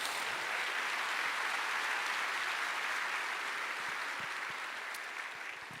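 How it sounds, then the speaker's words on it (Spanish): A church congregation applauds in a steady wash of clapping that fades slightly toward the end. "Dale un fuerte aplauso al Señor en esta hora"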